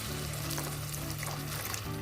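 Water is poured into a pot of cooking eggplant rice with masala, a soft, steady splashing, quiet and close, over a low background hum.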